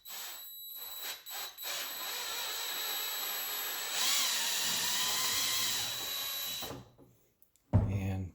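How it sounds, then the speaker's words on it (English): A power drill fitted with a ½ inch bit drills out the inside of a plastic ceiling electrical box fastener, whining steadily and close for several seconds, revving higher midway, then stopping, followed by a brief clatter. "taking a drill and actually drilling out the inside of this"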